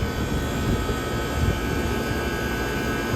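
Three vintage air conditioner units, one a 1978 Comfort Air Quiet Master, run together in a steady, loud, continuous mechanical hum and whoosh of fans and compressors.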